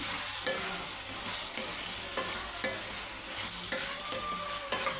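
Chicken curry with coriander powder stirred in a pan, a constant close hissing sizzle with regular scraping strokes of the spoon every half second or so.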